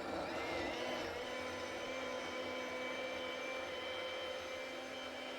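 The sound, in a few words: blender blending macadamia nuts and water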